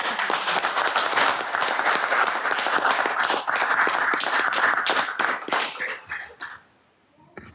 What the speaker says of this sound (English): how about a round of applause for our new councilwoman?